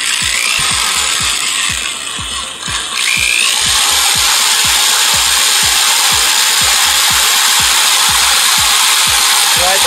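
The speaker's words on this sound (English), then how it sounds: "You got a drill, you got it good to go." An electric drill boring through the metal roof of a Chevrolet Monte Carlo, Impala, Lumina or Malibu during roof and glass replacement, a loud steady grinding whine with rapid regular ticks from the bit, sustained and close.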